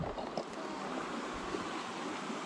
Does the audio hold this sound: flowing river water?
yes